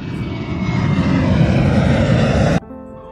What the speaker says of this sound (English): A for aeroplane.